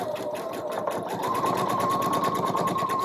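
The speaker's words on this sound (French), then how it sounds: "piquer tout autour de la jambe" Sewing machine stitching steadily around the leg of a women's pyjama, a continuous close whirring hum that speeds up slightly partway through, with no talking.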